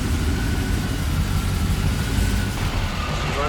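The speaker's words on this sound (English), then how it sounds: "the first ever startup of a Godzilla motor in a Continental" A Godzilla V8 in a 1965 Lincoln Continental hotrod runs at a steady, rumbling idle during its first startup, loud and close with no talk over it.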